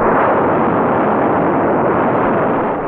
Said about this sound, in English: This controlled explosion is sustained evenly by constant propellant flow rates